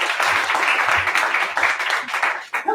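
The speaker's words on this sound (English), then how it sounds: "give a big round of applause for Piotr Mirovski." Audience applause at an Improbotics improv comedy show, a dense, steady burst of clapping from a full house that carries on without a break and dips briefly near the end.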